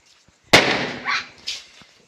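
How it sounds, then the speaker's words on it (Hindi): Diwali firecrackers go off as one sharp, loud, close bang that rings out briefly. A few smaller pops and crackles follow, fading over a couple of seconds. "देखो वहाँ पर भी खूब पटाखे फोड़ रहे हैं"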